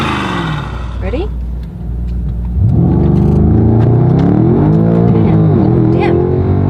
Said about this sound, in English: you heard those turbos at the end, didn't you?